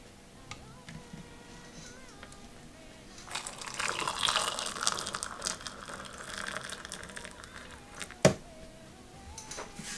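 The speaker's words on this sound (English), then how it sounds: "pour on the water." Water is poured into a teacup, a soft splashing gush that rises midway and then fades, with a sharp clink near the end.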